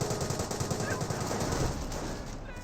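Dense, continuous bursts of rapid machine gun fire in the video game Company of Heroes crackle throughout, loud and sustained, with a busy battle-like wash of shots and no talking.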